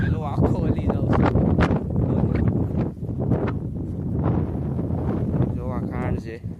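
Strong wind at a water-filled stone quarry, heard by someone out cycling, buffets the microphone in loud irregular gusts and rumbles, with people talking over it.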